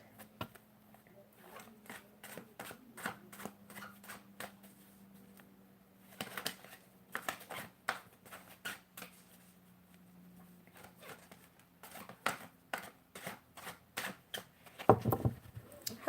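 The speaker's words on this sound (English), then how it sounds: "Talk about a shuffle." A deck of cards is shuffled with a run of quick, soft riffling snaps and taps, pausing briefly before a second burst of shuffling, faint and close.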